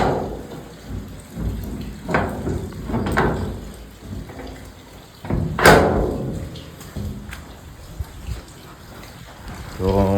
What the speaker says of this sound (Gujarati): અત્યારે વરસાદનો આવો માહોલ છે